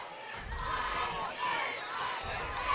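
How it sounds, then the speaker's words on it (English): A large crowd roars and shouts at a high school football game in Ardmore, a sustained loud cheer with swelling waves of yelling across the whole stretch. "Big crowd here at Ardmore."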